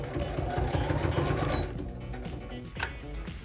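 Sewing machine stitching fabric on a shirt being converted into a two-piece outfit, a loud steady rapid mechanical whirr with a fast needle rhythm that eases off partway, then resumes in short bursts.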